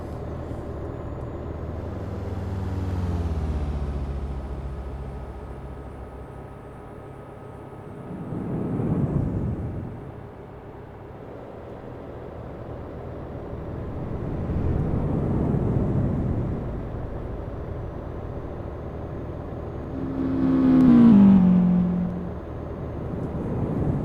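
A Volvo FH 500 truck drives in Euro Truck Simulator 2. The engine drones steadily, its pitch rising and falling in repeated sweeps through gear changes, with a brief air-brake-like hiss near the end and no talking.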